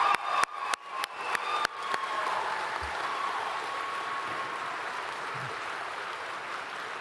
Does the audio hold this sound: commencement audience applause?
yes